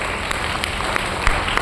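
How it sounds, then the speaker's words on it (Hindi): Brief, moderately loud applause from a seated audience during a light-hearted company training session for an herbal products firm in India, dense clapping holding steady for under two seconds with a few sharper accents. "एक जोरदार तालियां के लिए लगाओ।"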